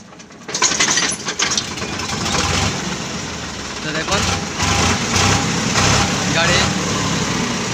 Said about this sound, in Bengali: গাড়ি স্টার্ট হয়ে গেল।